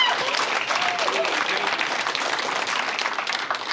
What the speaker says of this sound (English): go ahead, clap it up. Clap.